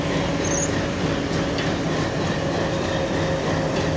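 The Nilsagar Express rumbles steadily through a railway station in Jaipurhat, a continuous loud roar of wheels and wagons with faint squealing edges, no voices audible.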